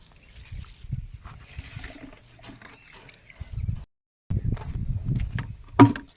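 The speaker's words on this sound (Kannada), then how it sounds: "ನೀರು ಹಾಕತ್ತೀನಿ" Water splashes and trickles onto the ground around garden plants in uneven bursts, with a pause in the middle and a sharp knock near the end.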